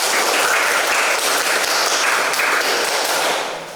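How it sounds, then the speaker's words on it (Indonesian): Dense, steady applause from a crowd, many hands clapping loudly and continuously before tapering off at the end. "Tepuk tangan untuk kita semua."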